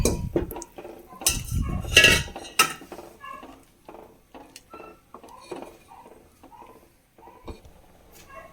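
Rice payasam with added milk being stirred in a pot, a spoon scraping and clinking against the metal in irregular close strokes, louder at first and then softer, with no talking.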